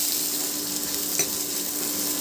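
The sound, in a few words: chopped onion frying in oil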